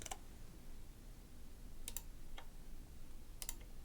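Sparse keystrokes on a computer keyboard, a few quiet clicks in small bursts spread over a few seconds against steady room hiss, with no talking.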